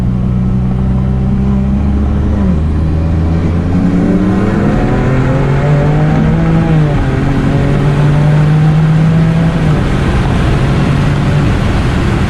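A Mosselman Hybrid Turbo F80 M3 accelerates hard in a race run toward 200 mph, its engine note climbing steadily through the gears with brief shift dips, loud and continuous throughout.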